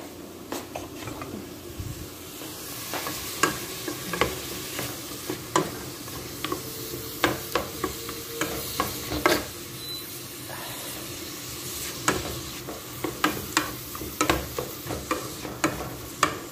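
Oil sizzling in a frying pan while shakshuka is being cooked, a steady close hiss broken by sharp crackling pops and a few clinks of stirring, with no talk.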